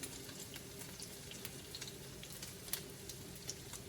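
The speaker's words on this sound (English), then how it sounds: "they're puffing up nicely when they're frying" Corn fritters fry in a shallow layer of oil, giving a steady close crackling sizzle with scattered sharp pops, fairly quiet and continuous with no voices.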